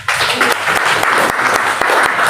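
Church congregation claps together during a worship service, a short burst of loud, dense applause with a few sharper individual claps standing out.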